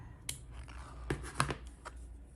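Scissors snip through crochet yarn at the end of an amigurumi turtle piece, giving a few quiet, sharp cuts in close, fairly soft surroundings.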